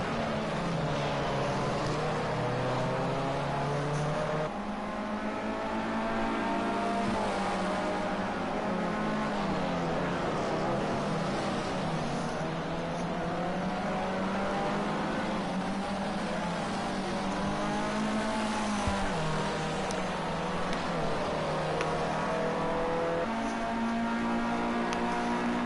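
Formula C race cars running on track in a 2019 NORL round, their engines a steady, loud, layered drone that rises and falls in pitch as the cars spread out, with no break for the whole stretch.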